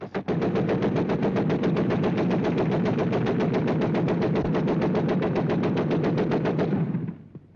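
Machine gun fire during a 1942 merchant marine gun-training demonstration of tracer fire: one loud, continuous burst of rapid, evenly spaced shots lasting about seven seconds, then cutting off abruptly.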